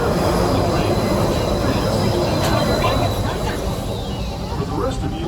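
Disneyland Railroad train pulling into Tomorrowland Station, a steady loud rumble of wheels and carriage noise throughout, with a faint tonal squeal and crowd babble mixed in.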